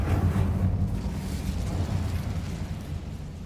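A fire spell cast in the video game Hogwarts Legacy, a loud roaring, rumbling burst of flame that fills the whole moment with dense low-end energy and a steady, sustained crackling roar.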